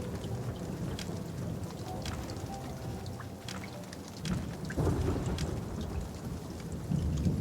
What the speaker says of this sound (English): this lightning storm and rain in here is intriguing